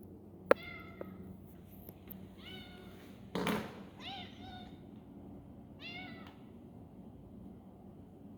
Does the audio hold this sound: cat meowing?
yes